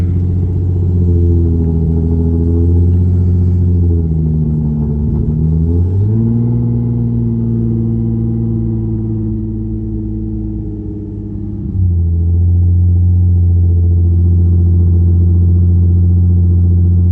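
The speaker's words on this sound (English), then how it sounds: "First cold start in 2 weeks." A Nissan VQ engine idles loudly and close after a cold start, a steady low drone that dips and shifts pitch twice as the revs settle, with no other sounds.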